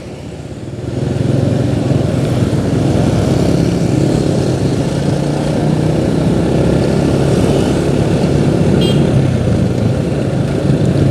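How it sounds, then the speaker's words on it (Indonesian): Congested road traffic of cars and motorcycles in Singaparna, Tasikmalaya, makes a steady, loud, close engine rumble and road roar that carries on without a break. "Ini sedikit macet ya."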